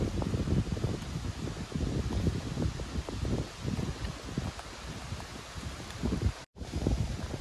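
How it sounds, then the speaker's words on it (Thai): Steady wind gusts and rustling leaves outdoors while oyster mushrooms are being picked, a continuous broadband rush with brief dropouts, no talking. "ฟังเสียงลม"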